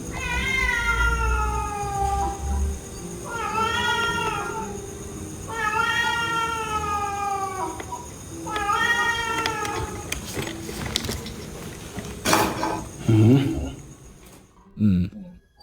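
A cat lets out four or five drawn-out, wavering meows in a row, close and fairly loud, followed by a few sharp knocks and scuffles.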